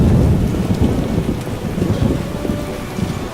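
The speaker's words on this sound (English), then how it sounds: "Isn't supposed to rain." A thunderstorm in The Witcher video game: heavy rain hisses loudly throughout while deep rolling thunder rumbles underneath, close and full.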